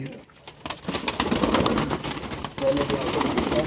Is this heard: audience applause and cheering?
no